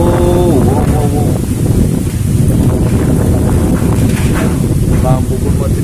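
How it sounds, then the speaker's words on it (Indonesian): Strong stormy wind blowing at night, a loud continuous roar buffeting the microphone throughout, with someone talking over it. "Wih, ini dia mas bro, anginnya cukup kencang ini."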